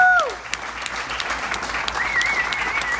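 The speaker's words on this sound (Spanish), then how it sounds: "Denle un fuerte aplauso a las hijas de los pastores" Steady audience applause for the pastors' daughters at a wedding celebration in California, broadband clapping sustained throughout with a whistle rising over it near the start and again later.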